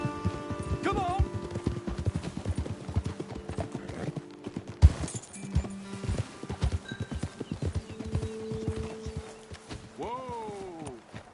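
Horses in the video game Red Dead Redemption 2 clip-clop steadily at a brisk pace, with a whinny and snorts near the end, hoofbeats close and continuous under game ambience.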